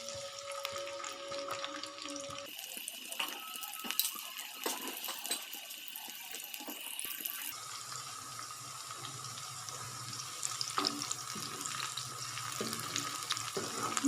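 Onions fry in hot cooking oil with a continuous crackling sizzle, and the sound shifts in texture partway through as they cook.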